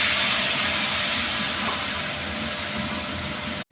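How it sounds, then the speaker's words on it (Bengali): Cumin seeds and bay leaf sizzling in hot oil, a steady broadband hiss that holds evenly before cutting off abruptly at the end. "আমি তেলের মধ্যে জিরে দিয়ে দিচ্ছি, তেজপাতা দিয়ে দিচ্ছি।"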